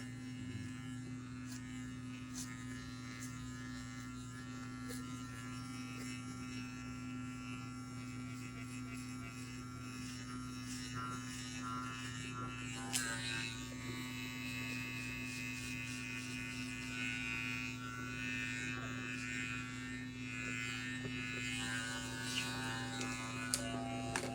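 Electric hair clippers buzz steadily and quietly while cutting a shadow fade, a continuous, even hum that lasts throughout.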